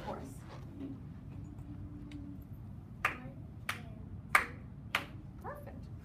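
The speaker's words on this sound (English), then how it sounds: "Clap it for us." A student claps a simple eighth-note rhythm in a classroom, with four sharp, separate hand claps spaced about half a second apart over a low murmur of room noise.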